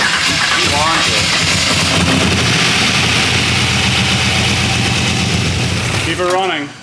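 A poor man's LS3 V8 swapped into a BMW E46 idles loud and rough on its first start-up, a continuous choppy rumble lasting several seconds with voices faintly underneath.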